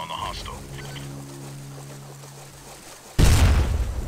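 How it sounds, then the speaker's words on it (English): A boat blows up in the SOCOM US Navy SEALs video game, Thailand mission: a sudden loud, broadband blast near the end that keeps roaring, following a stretch of quieter game ambience. "I'm gonna detonate these boats right now. Oh. This is gonna create a loud bang."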